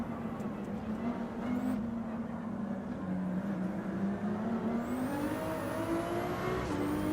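A Ferrari race car engine in Gran Turismo 7 holds a steady, loud drone at full throttle, its pitch gradually rising and falling through gear changes and continuing without a break.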